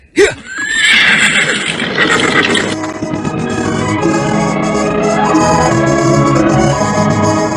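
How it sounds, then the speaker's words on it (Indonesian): A horse neighs loudly and close at the start of being ridden away, with a long whinny and faint hoofbeats under a sustained dramatic music score. "Pendekar Lau segera melarikan kuda dan sebentar kemudian mereka sudah kembali masuk ke dalam hutan lebat"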